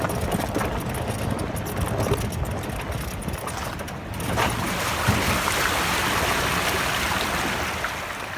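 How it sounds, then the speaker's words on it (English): Year-round creek on a homestead property, a continuous broad rushing flow heard close by, steady with slight swells and no voices. "This creek runs year round."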